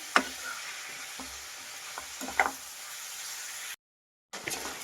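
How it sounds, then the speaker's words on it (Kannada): Chicken, about half a kilo, stirring and frying in a pan with capsicum and green chilli, a steady sizzle with a few louder scrapes of the spoon, close by and without talk, briefly cutting out near the end. "ನೋಡಿ ಒಂದೆರಡು ನಿಮಿಷ ಫ್ರೈ ಮಾಡಿದಾಗಿದೆ"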